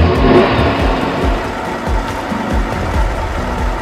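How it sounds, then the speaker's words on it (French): A toy fire truck's motor runs continuously at close range, a loud, steady mechanical whir with a rhythmic pulsing buzz and no voices over it. "Maintenant je fais marcher le moteur."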